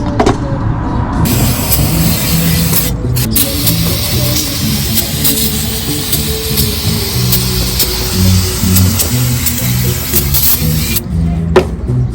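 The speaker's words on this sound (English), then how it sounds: "Now I'm going to spray it off with some brake cleaner" A continuous hissing spray of brake cleaner on a 1988 Jeep Cherokee's valve cover area runs for several seconds against a garage backdrop, with brief pauses and mechanical clatter mixed in.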